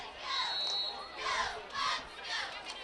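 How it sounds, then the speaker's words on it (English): A crowd cheers at a 2009 high school football game between Nelsonville-York and Wellston, heard from a distance. The loud, swelling shouts come in several waves over a roaring background. "Another nice crowd on hand"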